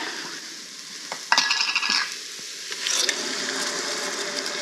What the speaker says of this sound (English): I'm gonna add in our beef broth and deglaze